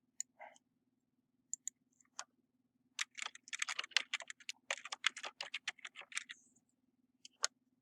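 Quick bursts of typing clatter on a computer keyboard, a few isolated keystrokes first and then a dense run of clicks, close and quiet against a faint electrical hum.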